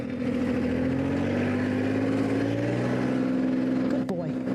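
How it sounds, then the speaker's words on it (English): A tractor's heavy engine drones steadily close by, its pitch slowly rising as it revs harder, with a voice talking over it. "it's the revving of the engine, it getting louder"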